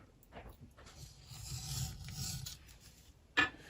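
An Owden edge beveler cutting along the edge of black leather makes a soft, uneven rasping scrape that builds and fades over several seconds, ending in one brief sharper stroke.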